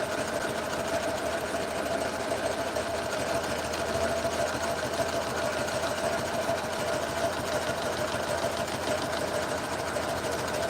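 A sewing machine stitches slowly through several layers of a purse, running as a steady, continuous mechanical whir with a fast, even needle chatter and no pauses.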